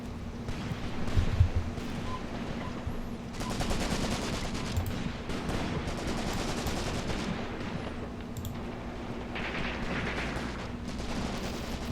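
Gunfire in the tank and infantry war game Graviteam Tactics: Mius Front, a Soviet battle scene with rapid machine-gun bursts and scattered shots rattling at a distance over a low rumbling battlefield backdrop, without speech.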